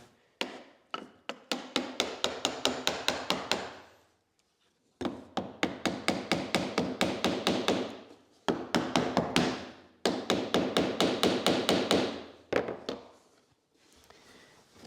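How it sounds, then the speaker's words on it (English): Rapid, rhythmic hammer taps drive wooden wedges to clamp material on a CNC spoilboard, several bursts, each run of sharp knocks building in loudness before short pauses, close and clear. "Take a hammer."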